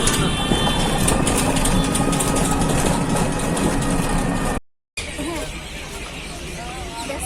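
A toto electric rickshaw drives along a road, with steady broadband road and motor noise close by and a brief dropout midway; people chat in the background.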